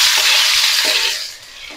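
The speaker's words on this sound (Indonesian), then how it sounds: "Kita tumis sampai harum." Shallots, garlic, chili and tomato sauté in a hot pan for fried rice, giving a loud, steady sizzle with close hissing that eases off slightly toward the end.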